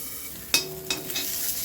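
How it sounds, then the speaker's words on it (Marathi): Tomatoes cook in a hot pan for a Nagpur-style patwadi rassa, a quiet sizzle with two sharp clinks or stirs close together, brief and fairly faint. "आता आपण ह्याच्यातच गरम तव्यामध्ये टमाटा नरम होऊ दे"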